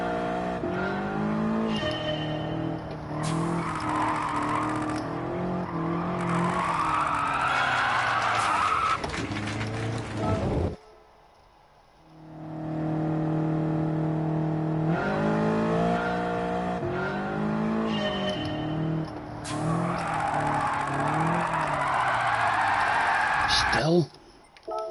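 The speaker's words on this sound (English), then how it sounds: "Hardly any throttle required at all for it to start to drift. A bit of turning and the drift starts." A car drifting on hard racing tires in Gran Turismo 7, with engine revving and rising and falling tire squeal through long slides, a brief lull midway, and someone talking over the game sound.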